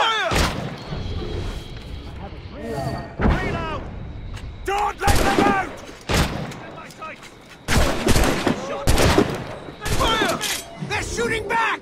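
Battle gunfire in the video game Assassin's Creed Rogue, loud scattered shots and booming volleys separated by brief pauses, while characters shout between the blasts.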